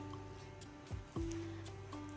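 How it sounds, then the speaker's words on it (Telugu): Cauliflower pieces dropped into a pot of boiling water: two soft splashing plops about a quarter second apart over a low steady bubbling hum, faint and close. "అది నీళ్ళు మరిగాక దాంట్లో క్యాలీఫ్లవర్ ముక్కలన్నీ వేసుకోవాలండి"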